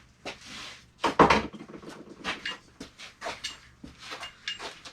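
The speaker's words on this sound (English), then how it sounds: "Let's chuck the alternator on." Metal parts clunk and knock as an alternator is fitted onto a Mini Cooper R53 engine, with a sharp close knock, scattered rattles and scrapes and several quieter bumps following.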